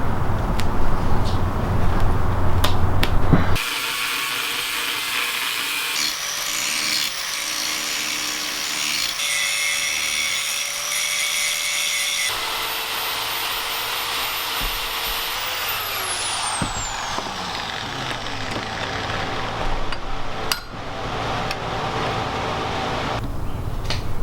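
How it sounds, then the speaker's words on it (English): A van's clutch pedal is cut off and ground smooth, loud sustained power-tool whining and grinding with shifts in pitch, a break in tone midway and a falling whine as the tool spins down. "we're just gonna cut the pedal off, grind it smooth"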